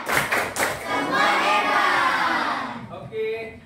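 A classroom of pupils claps a short rhythmic pattern, a few sharp claps at the start, then chants together with more hand noise underneath.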